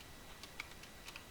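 Faint, quick keystrokes on a computer keyboard while building a spreadsheet, a handful of soft scattered clicks at an irregular pace with no talking.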